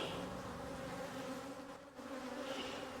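Honeybees buzzing around beehives, a faint steady drone of many insects close by, with no voices.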